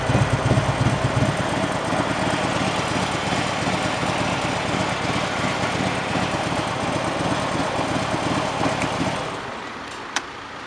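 A car engine idles with its exhaust open, giving a steady, loud, bassy rumble up close that fades slightly near the end.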